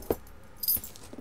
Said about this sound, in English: I need my keys.